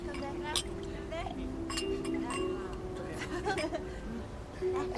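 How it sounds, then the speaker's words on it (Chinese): Glasses of non-alcoholic wine clink together in a toast at an evening gathering of athletes, giving several bright, close clinks scattered over a few seconds while people talk and cheer. "干杯！ 干杯！"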